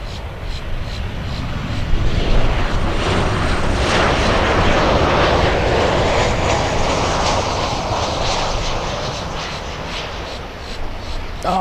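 A Boeing 747 airliner landing at Miami International Airport roars loudly and steadily throughout, a broad sustained jet engine rush with no breaks.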